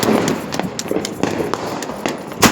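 Diwali sky shot fireworks bursting outdoors, a string of sharp cracks and pops scattered over a steady crowd-like background, with a louder burst near the end.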